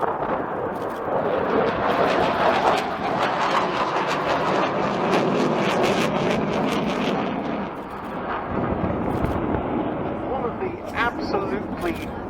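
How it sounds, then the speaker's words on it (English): A French Air and Space Force Rafale jet performs a display at RAF Cosford air show, its engine roaring as a broad, sustained rumble beneath a commentator talking throughout. "the aircraft describing a square in the sky with a roll of each corner"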